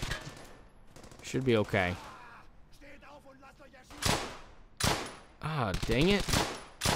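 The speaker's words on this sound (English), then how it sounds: "I'm under fire" Gunfire in Brothers in Arms: Hell's Highway, sharp broadband shots that come in several bursts and single cracks, interleaved with someone speaking over the battle.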